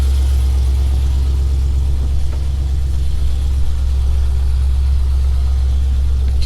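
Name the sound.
car engine while backing the car up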